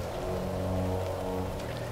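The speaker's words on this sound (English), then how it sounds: "It's raining. How appropriate." Steady, dense rain from the video game Metal Gear Solid 3: Snake Eater, a continuous wash of downpour with a low rumbling bed beneath it, constant and unbroken with no talk.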